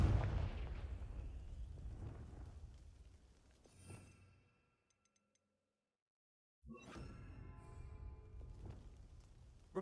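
The Confringo fire spell in Hogwarts Legacy sets off a loud booming blast that rumbles and fades away, then near-silence, followed by another heavy burst of crackling impact noise.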